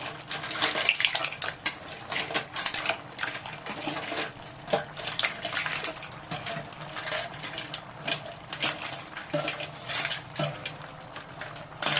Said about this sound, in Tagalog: Lalagay na natin yung seafood